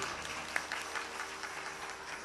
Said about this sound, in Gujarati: મારે જોરદાર તાળીઓથી અમારે જયંતિભાઈને આપણે વધાવી લઈએ.